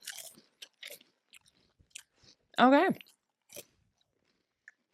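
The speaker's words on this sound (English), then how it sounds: "Can we all enjoy a beaver nugget at the same time?" Several people bite into crunchy Beaver Nugget snacks together, scattered crisp crunches and chewing clicks around a short spoken word.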